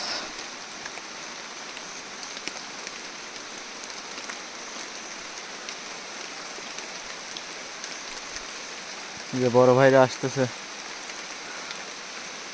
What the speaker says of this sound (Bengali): বৃষ্টির মধ্যে